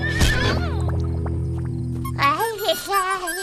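A cartoon horse gives a whinny early on, answered by an animated horse neigh with wavering pitch near the end, over a steady musical background.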